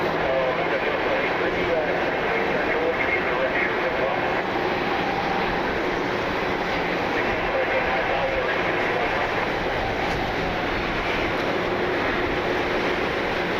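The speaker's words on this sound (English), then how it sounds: "There she is, the Queen of the Skies taxiing out." An Atlas Air Boeing 747 taxis at Cleveland in the rain, a steady broadband jet-engine roar that stays continuous and moderately loud throughout, mixed with rain hiss and without clear speech.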